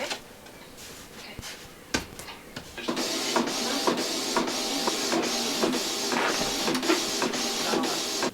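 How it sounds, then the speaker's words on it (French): A home studio printer runs through a print job, starting with a few sharp mechanical clicks and thumps, then settling into a steady whirring feed with rhythmic ticks, close and moderately loud, no talking. "L'imprimante a fini son travail."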